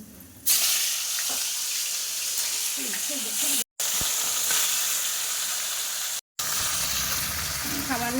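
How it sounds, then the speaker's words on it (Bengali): Fish frying lightly in oil in a wok, a steady close sizzle running throughout with brief cutoffs, while a voice talks over it at moments. "মাছগুলো বেশি ভাজবো না হালকা ভাজবো"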